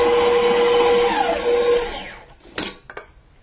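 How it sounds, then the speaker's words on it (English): Electric mixer whirring steadily through Earl Grey blondie batter, a loud continuous motor drone that winds down and stops partway, followed by a few faint knocks and clatters. "we're going to go ahead and take it off the mixer"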